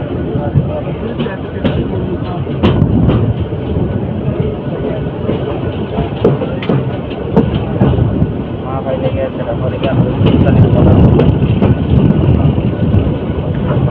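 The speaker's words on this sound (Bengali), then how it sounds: "তো তিতাস কমিউটার ট্রেনটি নরসন্ধি রেল স্টেশন ছেড়ে যাচ্ছে" The Titas Commuter train, hauled by an old diesel locomotive, pulls away from Narsingdi railway station with loud, continuous rolling rumble and rattling clatter, while someone talks over it throughout.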